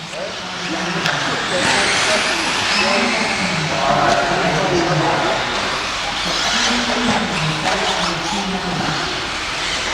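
AE B7D RC car racing on a local track in the final, a busy wash of high electric motor whine and buzzing passes, loud and continuous, with a voice faintly mixed in.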